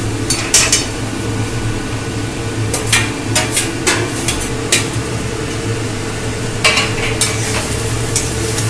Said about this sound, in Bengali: এটা মশলার সঙ্গে আলু আর পটলটাকে একটু কষে নেব